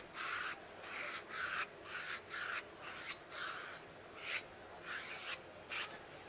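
Rhythmic scratchy rasping as a hand rubs down textured, slip-rated self-adhesive vinyl floor graphic, about a dozen close strokes in a steady back-and-forth rhythm, no talk.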